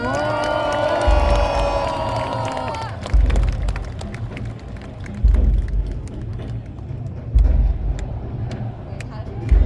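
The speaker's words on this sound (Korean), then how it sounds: "여러분 다시 한번 큰박수 부탁드리겠습니다." An open-air crowd cheers and claps at a presidential election rally in a city hall plaza. A voice speaks over the start, and deep rhythmic thumps recur under the noisy outdoor crowd.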